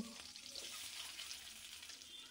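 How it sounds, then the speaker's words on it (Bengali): Boiled eggs frying in hot oil with salt and turmeric for biryani, a steady hissing sizzle that stays even throughout, faint and close, with no voices. "ওই তেলের মধ্যে আগে থেকে সেদ্ধ করে রাখা ডিমগুলো আমি দিয়ে নুন হলুদ দিয়ে এগুলোকেও ভালো করে ভেজে নেব"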